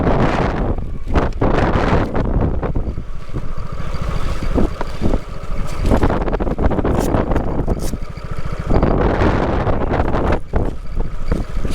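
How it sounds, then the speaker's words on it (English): Strong wind buffets a microphone outdoors during a stormy stop on a scooter endurance ride, a loud continuous roar with rumbling gusts that surge and ease, no voices. "It's windy as hell too."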